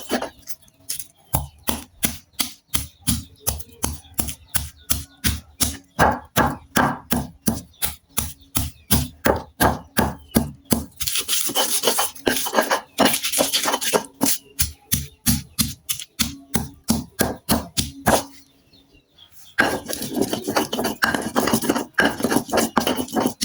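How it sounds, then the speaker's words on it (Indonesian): Red curly chillies pounded in a stone mortar with a pestle (ulek), a steady run of sharp, close knocks and grinding scrapes in a fast rhythm, with brief pauses and a few denser gritty stretches. "Kita ulek ini dulu."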